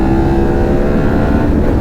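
Harley-Davidson Pan America 1250 motorcycle at about 70 mph, a loud steady engine drone mixed with heavy wind rush, continuous and close with no break.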